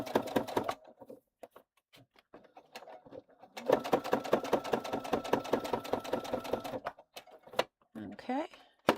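Sewing machine stitching a bag pocket onto fabric through thick layers, running in rapid clattering bursts with short pauses, close and fairly loud, with brief handling sounds between runs.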